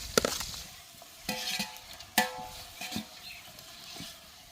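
Ginger-garlic paste, green chilli and onion being sautéed in oil for biryani, soft sizzling broken by a few sharp clinks of a ladle against the pan, fairly quiet and near.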